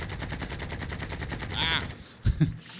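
Gunfire in the video game Warzone: rapid, rhythmic automatic bursts at moderate distance, ending in a couple of sharper, heavier shots.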